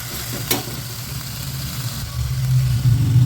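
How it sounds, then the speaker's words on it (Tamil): Cauliflower sizzles steadily as it fries in oil for a kuruma, a soft close crackle with a brief clatter near the start and a low hum rising toward the end, with no voices. "இந்த காலிஃப்ளவரை வந்துட்டு நம்ம இப்படி இந்த போட்டு எண்ணெயில் வதக்கினோம்னா கொஞ்சம் நல்லா சாஃப்டாகிடும்"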